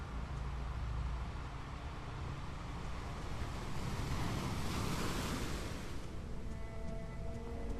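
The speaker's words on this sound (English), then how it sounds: "Wait, why am I getting water? Is there water all the way down there now?" Water ambience in an Unreal Engine 5 dungeon level plays as a continuous surf-like wash, rushing and windy, swelling in the middle before settling back, with no voices.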